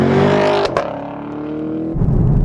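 A 2019 Chevrolet Camaro 2SS V8 revs toward its 6,500 RPM red line as a loud, close, steady engine drone with a rising harmonic tone. A shift breaks it briefly before a deep rumble resumes.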